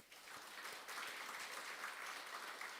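Steady applause from a church congregation during a Sunday worship service, a dense wash of many hands clapping continuously at moderate volume with no voices over it.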